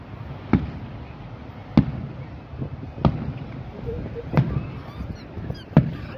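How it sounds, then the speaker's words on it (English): Small fireworks bursting outdoors at a display: five sharp, fairly distant pops, evenly spaced about a second and a half apart, over a low murmuring background. "there should be like good fireworks now"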